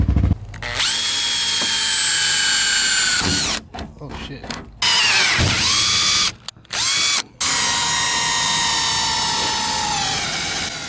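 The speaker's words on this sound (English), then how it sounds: "let's drill through some Bondo then" A loud power drill whines steadily, drilling through Bondo body filler on a car body kit, stopping and restarting several times, with a brief exclamation from a man between bursts.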